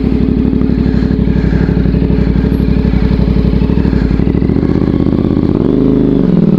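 A CFMOTO 450MT motorcycle rides over a wooden bridge on an offroad enduro trail, its engine a loud close rapid thumping idle-speed pulse, with a rising rev and rattling near the end.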